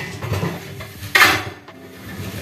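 Large metal kadhai cooking pots in a small home kitchen clank and scrape as they are handled, with one sharp ringing metallic knock in the middle among softer bumps, close and without talk.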